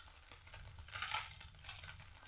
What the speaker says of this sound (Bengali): আস্তে আস্তে একটু বেশি তেল দিয়ে মাছটাকে ভাজতে হয়